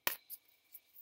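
Oracle cards riffle and slide during a shuffle, giving one sharp close burst of papery rustle followed by two fainter card flicks in a short, quiet burst.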